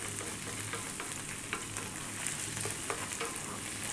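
Chopped spinach sautés with onion, garlic and seasoning in a pan, giving a close, steady sizzle with light crackles and occasional stirring scrapes, no voices.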